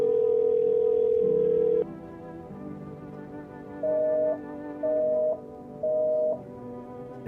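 A telephone dial tone in a video game hums steadily, then gives way to three short, evenly spaced beeps over a low background drone, with no talking.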